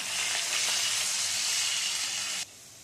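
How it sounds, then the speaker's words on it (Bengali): Potato pieces fry in hot oil with a steady, bright sizzle that continues loudly for over two seconds and then drops away sharply. "আলুটা ভাজা হতে হতে আমি তোমাদের দেখিয়ে দিই"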